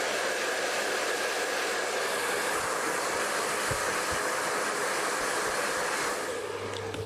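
A blow dryer roars steadily and loudly up close while drying hair into curls with a ceramic brush, with no pauses and a slight dip near the end.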